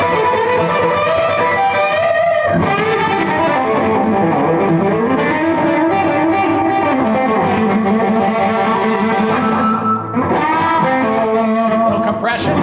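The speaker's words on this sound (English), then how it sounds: "How about some echo? We'll put a little delay on it." A distorted electric guitar with delay and echo plays a sustained rock passage in a lesson. Notes ring and repeat into a dense, loud, continuous wash with a brief dip near the end.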